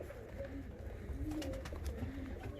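Fancy and costume pigeons, one male and two females, cooing softly in low repeated murmurs, close but quiet against a faint background hum.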